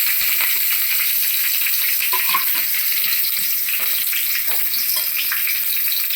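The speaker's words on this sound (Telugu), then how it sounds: "ఆయిల్లో ఇప్పుడు ఈ సాజీరా, పచ్చిమిర్చి," Shahi jeera and green chillies frying in hot oil for a Telangana-style chicken curry, a steady loud sizzle with crackling pops throughout, with no talk over it.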